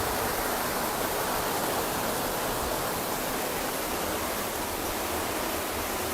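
Rain pours steadily outdoors, a loud, unbroken broadband hiss with no pauses or distinct drops, and no talking heard.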